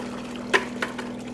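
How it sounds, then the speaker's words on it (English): Dirty water drains out of an Ashbys Sensei 250 psi carpet cleaning machine: a few brief splashing spurts over a steady low mechanical hum. "that's your dirty water coming out"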